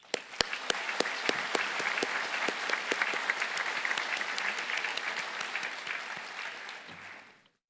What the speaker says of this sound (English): So, let's give you guys a round of applause.